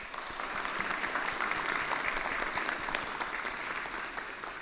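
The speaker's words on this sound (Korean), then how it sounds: "이 시간 인사하실 때 우리 큰 박수로 환영해 주시길 바랍니다" Congregation in a church sanctuary applauds to welcome a newly arrived pastor during a Sunday service in New Jersey: steady, dense clapping from many hands that holds at an even level throughout.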